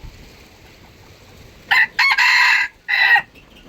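An F1 rooster crows once from close by, loud, in a few bright broken bursts rising and falling over about a second and a half, against a quiet yard background.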